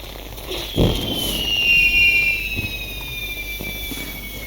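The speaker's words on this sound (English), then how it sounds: "All of the fireworks." Fireworks go off during a hobbit storytelling event in the Lord of the Rings Online game, with whistling rockets rising in pitch and a few muffled bursts over a steady game ambience.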